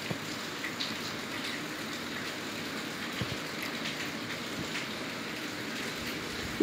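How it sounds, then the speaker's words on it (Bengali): Rain patters steadily onto tarpaulin sheets stretched over a temple courtyard, a dense, even drumming that stays constant with no voices. "এই বৃষ্টি বর্ষার সময় হয় না, বৃষ্টি হবে বলে এত তিরপল সাজিয়েছে"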